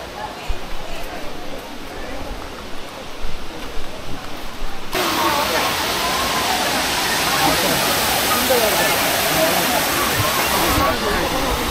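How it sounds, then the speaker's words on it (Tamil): Siruvani Falls near Coimbatore, water cascading over steps cut into the rock, a loud, steady broadband rush heard up close that swells and grows fuller partway through. "ஸோ ஸ்டெப் மாதிரி கட் பண்ணனால இங்கே வந்து ஒரு ஃபால்ஸ் எஃபெக்ட் வருது"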